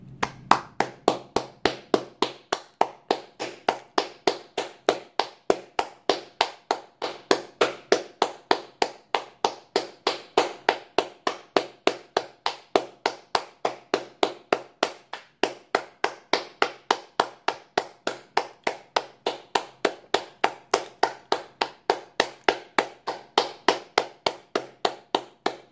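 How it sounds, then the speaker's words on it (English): Steady applause from hands clapping at an even, brisk rhythm, dozens of sharp claps continuing without pause for about 25 seconds, close and clear. "let's applaud to the person who sent it."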